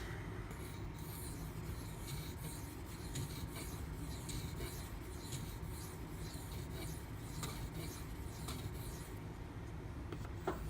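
A Spyderco Native 5 knife with a Maxamet steel blade is drawn over a strop. The soft, rough rubbing strokes repeat in a steady rhythm, faint and close by, with nothing else heard.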